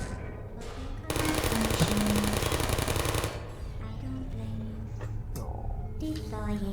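Rapid mechanical firing from Portal turrets in a video game, a dense loud burst lasting about two seconds, with game music tones and a talking voice around it.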